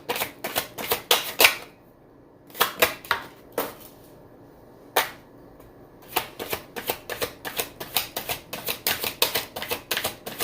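Tarot cards are shuffled and drawn in quick, crisp riffling bursts. Close clattering runs come in clusters separated by short quiet gaps, with a dense rapid stretch at the end and no voices.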